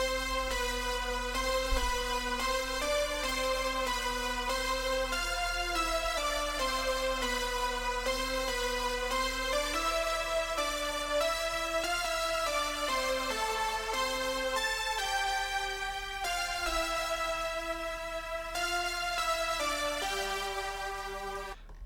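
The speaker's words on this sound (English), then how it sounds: "really, really far in the background, the piano plays this counter melody" A piano plays a flowing counter melody inside a layered music arrangement, soft repeated notes moving over a sustained low drone at a steady, even level throughout.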